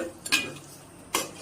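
Spices and meat being stirred in a pot, a couple of quick scraping clinks of a utensil against the metal, spaced apart, close and fairly quiet with no talking.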